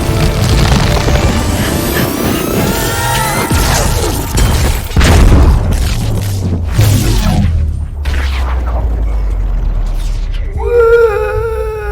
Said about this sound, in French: je suis sûr que personne n'a remarqué cette méga explosion bleue